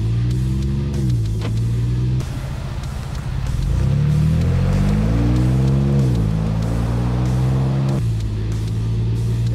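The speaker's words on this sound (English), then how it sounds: "we're gonna do a quick pull away at light throttle again" A 2021 Ford Bronco with a Magnaflow exhaust pulls away at light throttle, its engine drone rising and falling in pitch through several gear shifts, steady and loud close by, with no talk over it.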